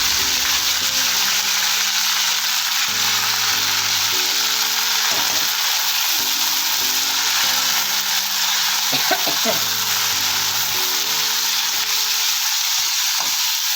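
Fenugreek leaves (methi) sizzle in a pan with garlic and chilli, a steady, loud hiss of frying with occasional stirring scrapes, while soft background music plays underneath.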